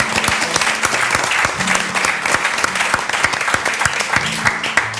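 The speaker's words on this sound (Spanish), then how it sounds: "Un aplauso para Abner" A full room of people at a church gathering claps loudly and continuously, the applause sustained and uniform from start to finish with faint tonal sounds underneath.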